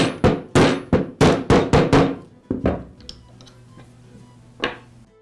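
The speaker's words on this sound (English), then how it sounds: "use a mallet to tap the bearing in place" A mallet taps a bearing onto an angle grinder armature shaft through a socket, about eight sharp, fairly loud knocks in quick succession, then two spaced single taps after a pause with faint handling sounds between.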